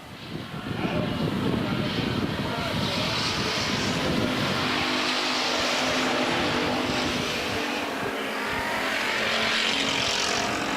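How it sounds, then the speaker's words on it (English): Race cars roar around the oval at Minneapolis Raceway in a 2011 feature race, their engines a loud, continuous, droning wash that swells and fades slightly as the pack passes. "Tony Slathauer, Pete Beaumont, your top 4 cars."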